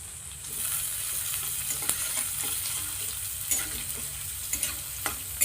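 Onions frying in a pan over low gas, a steady close sizzle with occasional sharp crackles and light scraping of stirring throughout.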